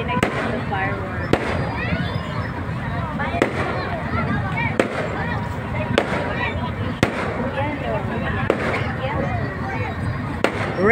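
Fireworks bursting at an outdoor display, sharp bangs and crackles popping every second or so over dense crowd chatter and voices.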